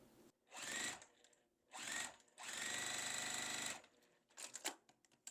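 Sewing machine stitching quilt block pieces together in three close, steady runs, the last one longest, followed by a few quick mechanical clicks.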